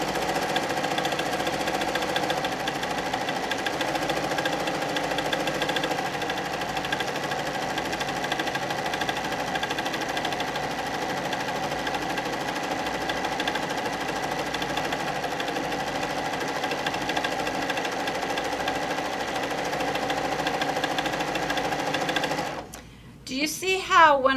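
A sewing machine runs steadily and close by for over twenty seconds during free motion quilting, with a humming, rhythmic stitching drone that stops near the end, followed by brief handling noise.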